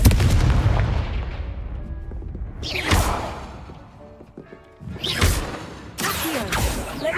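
Blasting spell explosions in Hogwarts Legacy ring out as several loud, sharp bursts, one fading into a long rumbling decay, followed by two more close blasts near the end with no talking.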